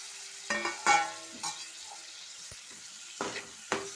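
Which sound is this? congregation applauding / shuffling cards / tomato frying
tomato frying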